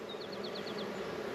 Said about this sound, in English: Checking out what the bees are doing